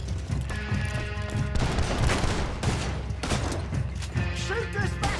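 Loud bursts of gunfire and shots in a Red Dead Redemption II shootout, dense and continuous with game music and background voices mixed in.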